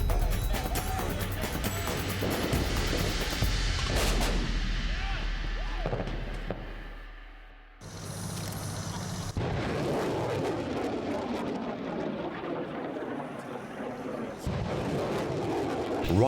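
Battlefield artillery guns fire several heavy, booming rounds that roll out amid rumbling battle noise, with a narrator's voice running underneath.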